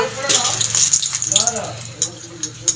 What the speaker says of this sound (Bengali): তেলটা গরম হয়ে গেছে শুকনো লঙ্কা দুটো ভেজে নেব